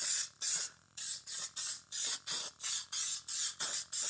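Repeated short bursts of spray adhesive hissing from a can while redoing a Yamaha TRI-Z 250 seat, about a dozen quick pulses in steady rhythm, close and fairly loud with brief gaps between.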